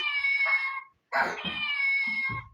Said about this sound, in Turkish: kedi sesi var ne yapacağız?